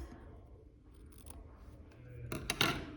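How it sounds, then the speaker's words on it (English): Scissors snip through excess bias tape and quilted fabric for a waistcoat armhole, a few close, crisp cuts clustered near the end over a quiet room. "what I'm going to do is cut around 3mm outside of this line of stitching so I don't have any of this excess"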